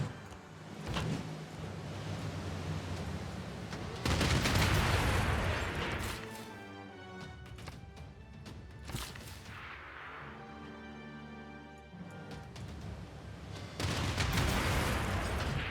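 A battleship firing on the city of Florence in Civilization VI, heavy booming shots and crashes with long rumbling decay and a tonal hum in between, loud and alone.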